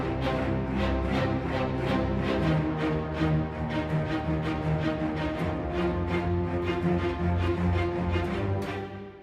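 Playback of a Magna Carta themed orchestral music project built from real-time virtual instruments, a full dense arrangement with steady rhythmic pulses running continuously throughout, no voices present.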